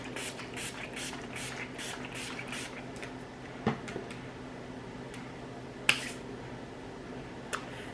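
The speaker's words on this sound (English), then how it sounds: "I am going to set it with the All Nighter spray" A quick series of soft bursts of All Nighter aerosol makeup setting spray, then a few sharper clicks and a hiss later on, quiet and close.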